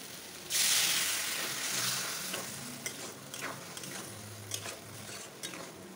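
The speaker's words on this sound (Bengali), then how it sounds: "জিরা সর্ষে বাটাটা দিয়ে ভালো একটু নেড়ে ছেড়ে নেবো" Fish with a cumin and mustard paste hits a hot pan with a loud burst of sizzle, then a spoon scrapes and stirs through the frying, the hiss settling to a steady crackle close by.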